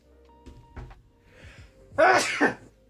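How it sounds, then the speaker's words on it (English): A single sharp, loud sneeze from a person at a desk, abrupt and close, preceded by a few faint knocks and murmurs. "Oof, I'm about to sneeze."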